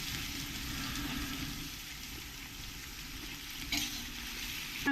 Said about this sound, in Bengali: ধীরে ধীরে নাড়া দিচ্ছি